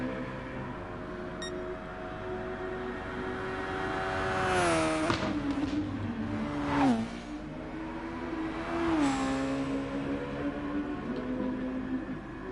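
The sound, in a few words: race cars driving in a racing video game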